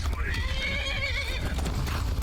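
A horse in the video game Skyrim lets out a long, wavering whinny that rises and falls for about a second and a half over a loud, rumbling game backdrop, with hoof clatter around it.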